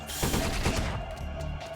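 Rapid gunfire bursts from above in the 2D roguelite game Blade Assault, a cluster of loud overlapping shots followed by quieter scattered pops.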